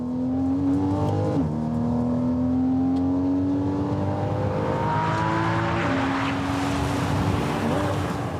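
A car accelerates hard on a track, its engine pitch climbing steadily through the gears with a couple of shift drops, loud and close from inside, a voice briefly audible near the end.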